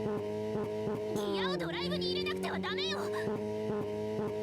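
A powerful car engine revs hard in an underground space, a loud sustained roar with rising and falling pitch sweeps and harsh squealing over a steady mechanical drone.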